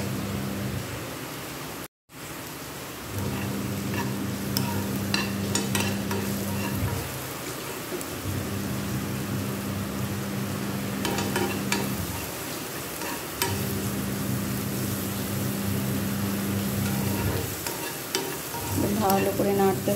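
Sabudana pulao with potato, carrot, beans and capsicum stirred in a frying pan, a continuous close sizzle broken by repeated scraping stirs and soft clatters, with a brief silent gap early on.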